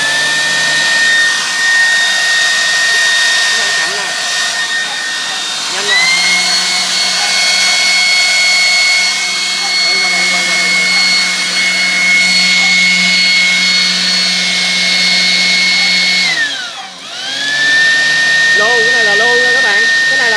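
A Japanese-market 110V electric blower runs on its low-speed setting with a steady whirring whine and hum. Near the end it briefly drops off and spins back up, loud and close.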